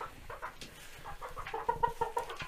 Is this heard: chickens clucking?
yes